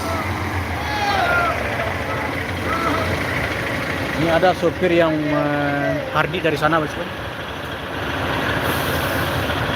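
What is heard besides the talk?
bus engine and air brakes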